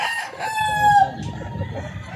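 A Kelso stag rooster lets out one close, loud crow followed by softer clucking and low fowl noises, while other birds murmur faintly in the background.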